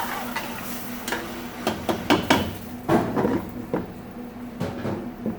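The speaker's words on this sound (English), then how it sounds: "Scrape the bottom of that pan." A metal spoon scrapes and knocks against the bottom of a pan while deglazing chicken sauce, giving a series of irregular clanks and scrapes, close and fairly loud.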